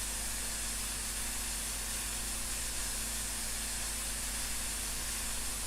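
Steady broadband steam hiss from the Flying Scotsman locomotive in a Train Sim game, continuous and even throughout with a faint low hum beneath, no talking.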